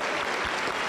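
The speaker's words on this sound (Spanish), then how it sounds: "Aplauso para el Señor Jesús." A church congregation at IP La Cosecha in Huancayo claps together in a brief, dense burst of applause, loud and close.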